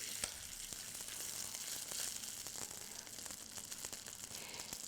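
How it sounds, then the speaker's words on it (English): Chicken pieces fry in a pan with a soft, continuous sizzle and crackle, quiet and close, with small popping spatters scattered throughout and no voices. "This frying here is actually to develop the flavor in the chicken"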